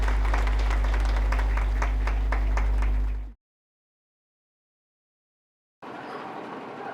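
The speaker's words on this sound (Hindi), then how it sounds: "तालियां बजाइए आप सभी," An audience at the inauguration of a guest house and hall in Tura, Meghalaya, claps. The applause is broad and loud, mixed with a low steady hum, then cuts out abruptly into silence before faint noise resumes.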